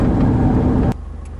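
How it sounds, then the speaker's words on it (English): Car traffic on a road in Zimbabwe: a loud, steady rumble of a nearby vehicle engine that cuts off abruptly partway through, leaving a faint low hum. "Traffic is quite bad here in Zimbabwe."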